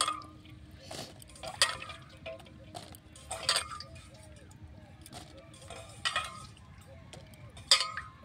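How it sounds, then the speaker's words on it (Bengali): Jujube fruits being washed in water: soft splashes and drips come in short bursts against a quiet background, with faint handling sounds between them. "এগুলো সব জলের মধ্যে দিয়ে দেব। ধুয়ে নেব ভালো করে ধুয়ে আবার এই ঝুড়ির মধ্যে নিয়ে নেব।"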